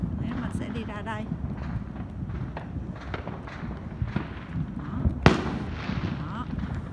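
Fireworks set off at a festival give one sharp, loud crack near the end, rising out of steady background chatter and crowd noise.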